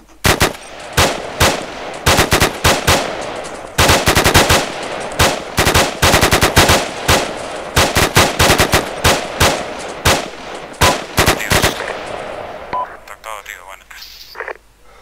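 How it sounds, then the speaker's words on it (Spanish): Loud machine gun fire in Arma 2, repeated sharp bursts at close range with brief gaps between volleys, trailing off into quieter radio noise at the end. "Voy a disparar."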